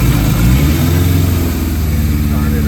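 A 1981 Suzuki GS850G motorcycle engine runs loud and close just after a cold start, a steady low idle with a rough, pulsing throb throughout and no talk.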